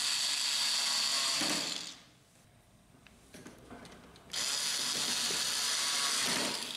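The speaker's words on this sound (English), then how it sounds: "Insert the two screws." Screwdriver driving screws into the plastic back cover of a Canon inkjet printer, close by: a sustained buzzing whir, a quieter gap with faint clicks and scraping, then the whirring resumes steadily.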